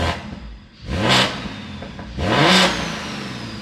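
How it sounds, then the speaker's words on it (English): Turbocharged BMW B58 engine with a big single turbo revs hard twice, each rising sweep climbing in pitch before falling away, with whooshing turbo noise, close and loud. "even the turbo sounds different now that doesn't have a boost leak."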